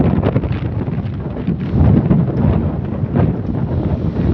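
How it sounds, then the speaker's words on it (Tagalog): Strong wind buffets the microphone in loud, continuous rumbling gusts with no other clear sounds. "Ang lakas ng hangin."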